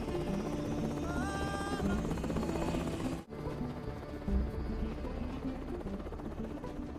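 A military rescue helicopter hovers close by, its rotor thumping steadily under a dense wash of engine noise, with a brief dip midway before the drone resumes.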